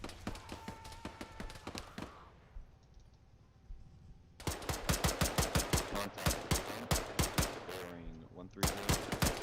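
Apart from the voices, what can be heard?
gunfire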